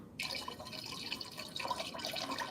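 Vanilla extract poured into a blender drink mix, a soft, steady trickling of liquid lasting a couple of seconds, close and fairly quiet with no talking.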